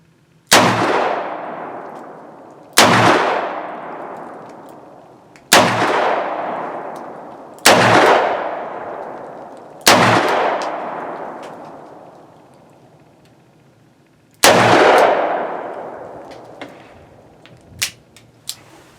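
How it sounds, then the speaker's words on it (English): A Rossi RP63 revolver firing .357 Magnum rounds, six loud booming shots spaced a few seconds apart, each ringing off with a long echoing tail outdoors. "It's not pleasant to shoot with the 357s."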